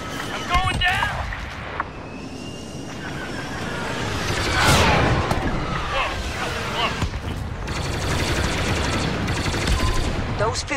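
Star Wars Battlefront Starfighter Assault battle on the Resistance side: loud rapid blaster fire and explosions with ship engines roaring past, mixed under combat radio voices and alerts.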